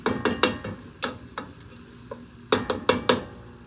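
Onions for jambalaya stirred in a pot: a spoon scrapes and knocks against the metal in close, uneven bursts over a faint sizzle, with a quiet gap in the middle before several more quick strokes.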